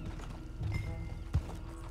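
A horse in the video game Red Dead Redemption 2 Online trots with soft, close clip-clop hoofbeats and gives a short whinny.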